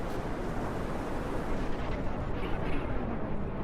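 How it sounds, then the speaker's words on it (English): Missile explosions hit the Hellfirefly during a video game battle, heard as a continuous dense rumble of blasts and booming fire with no clear gaps. "some explosions on the Hellfirefly"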